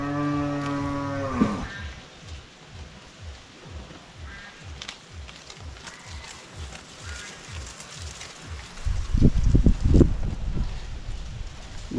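A cow lets out one long, loud moo at the start, followed by a steady patter of rain on a surface, with a louder splashing burst near the end.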